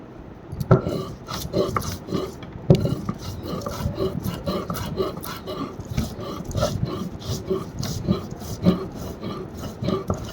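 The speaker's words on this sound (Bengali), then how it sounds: "সর্ষ পোস্ত আর কাঁচা লঙ্কা তো বেটে নেবো তো বেটে নিই" Mustard seeds, poppy seeds and green chillies are ground on a stone, making a close, rhythmic scraping and rubbing that repeats in steady strokes.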